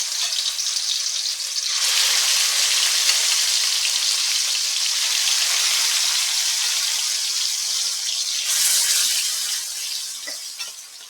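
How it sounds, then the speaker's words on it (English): Chicken pieces frying in hot oil in a wok for Jamaican-style chop suey, a loud steady crackling sizzle that surges as more pieces go in and fades slightly at the end, with no talk. "while our chicken is frying up over there"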